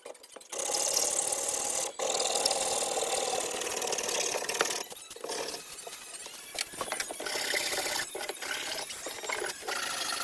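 A power tool cuts off an old wooden pistol handle that is held on by a wood screw. It makes a loud, continuous mechanical whirring and grinding, broken by a few brief dips and stops.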